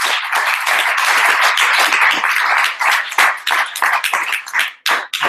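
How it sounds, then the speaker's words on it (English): Audience at a Chicago Startup Weekend event applauding, a dense burst of many hands clapping that holds steady, then thins into scattered individual claps near the end. "So give yourselves a round of applause."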